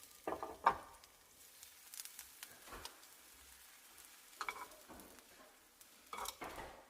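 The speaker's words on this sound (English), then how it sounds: "I'm going to saute just slices or rings of onion until it gets a little bit of charring" Onion slices or rings sautéing in a pan as they char, giving a quiet, intermittent sizzle with occasional soft stirring and scraping sounds.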